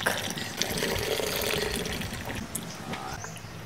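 Milk poured into a pot of boiling Filipino sopas soup with hotdog, giving a steady liquid pouring and splashing sound that runs unbroken for a few seconds with no talking.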